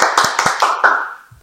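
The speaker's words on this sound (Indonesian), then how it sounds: "Tepuk tangan." A few people clapping their hands during an indoor podcast conversation, about five sharp, close claps in quick succession that then trail off into quiet.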